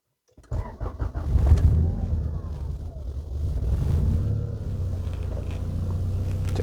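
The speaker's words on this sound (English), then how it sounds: "we'll actually turn the car on." A Honda Accord's engine cranks and catches after a moment of silence, then settles into a steady, close idle rumble with a slight rise in revs partway through.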